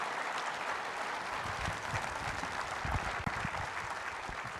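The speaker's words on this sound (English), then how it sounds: "Please give a round of applause" Conference audience applause at the 2025 NSA Annual Conference general session, a dense, even roar of many hands clapping that holds steady at a moderate distance throughout.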